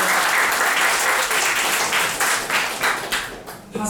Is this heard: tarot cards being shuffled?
no